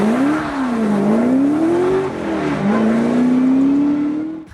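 A Hennessey Venom GT with a 7.0-liter twin-turbo V8 roars loudly and close, its engine note rising and dipping through two long pulls, with no talking.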